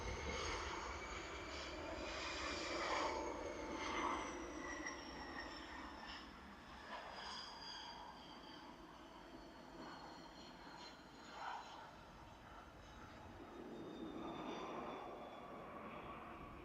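An airliner passing at Manchester Airport, its engines producing a distant, fairly faint whine with rising and falling tonal lines, swelling slightly around the middle and again near the end, heard alone without talk.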